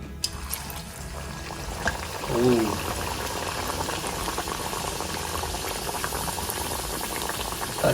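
Sweet nevrya dumplings frying in oil make a continuous bubbling hiss, close and even throughout, with a brief swell of bubbling early on.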